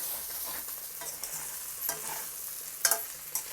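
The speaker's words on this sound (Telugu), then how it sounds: "మెత్తబడింది, ఇంకో కొంచెంసేపు వేయించుకుందాం." Spiny gourd slices frying in butter in a pan, a soft steady sizzle with occasional light stirring scrapes and a few sharper clinks near the end, no voices.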